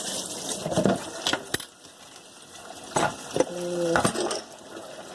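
Hands rinsed under a running kitchen tap while baking fig bars, water splashing in a sink with clinks of dishes, and someone talking briefly.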